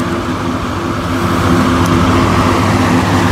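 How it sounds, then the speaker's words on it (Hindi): A household air cooler runs steadily, a constant loud whooshing drone with a low motor hum, picked up close on a wireless microphone with noise cancellation off. "इसकी वजह से कूलर की आवाज़ भी सुनाई दे रही है"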